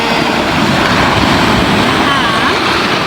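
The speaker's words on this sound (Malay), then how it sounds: "Air makin banyak. Ni dia air pasang." Ocean waves wash up a beach as the tide rises, a loud, steady roar of surf and wind close to the microphone with no clear breaks.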